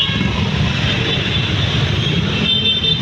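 Heavy road traffic crawls along Magsaysay Boulevard in Manila, single motorcycles among the vehicles, a dense, steady roar of engines and road noise close by with no clear gaps.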